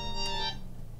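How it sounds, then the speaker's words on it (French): A single short ringtone-like electronic tone from a phone rings out, then cuts off and leaves a quiet background. "là c'est le téléphone qui vient de sonner"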